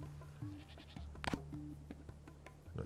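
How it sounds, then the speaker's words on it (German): Goat bleating in the survival strategy game Dawn of Man, a few short wavering bleats at moderate distance over a busy game soundscape with sharp clicks, no voices. "Neues Tier wurde geboren, Ziege."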